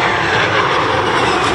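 An Airbus 319 airliner takes off at an air show, a loud, sustained roar of jet engines filling the whole stretch without a break.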